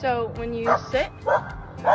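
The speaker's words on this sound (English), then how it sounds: "excuse my dog" A dog gives several short, yappy barks and whines in the room, repeated in quick bursts over a woman's speech.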